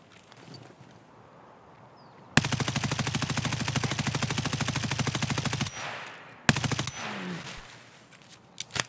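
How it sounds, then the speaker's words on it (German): Automatic gunfire in the online shooter Escape From Tarkov: a loud, sustained burst of rapid shots for about three seconds, then a second shorter burst after a brief pause, with quieter game ambience around them. "was für Schüsse"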